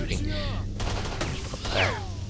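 Rapid bursts of gunfire crackle in the STALKER video game, several quick shots and volleys over game ambience, with a voice speaking briefly between them.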